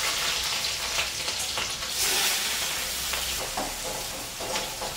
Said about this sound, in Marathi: कांदा आणि मिरची घालते तेलामध्ये